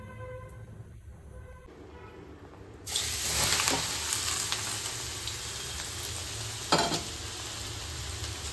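Elephant apple pieces fry in oil with dried red chilies: after a quiet start a steady sizzle rises and holds, with a couple of sharp spatters, heard close and with no talk.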